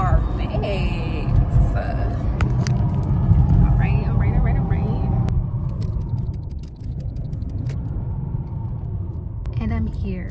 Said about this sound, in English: The sound that this car makes.